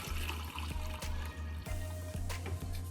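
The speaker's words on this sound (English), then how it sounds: "We add hot water to it." Hot water poured from a kettle to soak dried ingredients for Chinese fried pork with scrambled eggs, a steady close pouring trickle that runs without a break for about three seconds.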